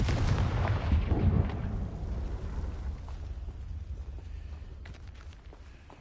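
Confringo fire spell from the video game Hogwarts Legacy, a loud booming blast that erupts at once and then rolls away into a long, slowly fading rumble with scattered crackles.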